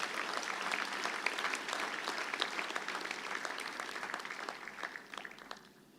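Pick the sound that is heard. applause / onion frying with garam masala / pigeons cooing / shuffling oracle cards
applause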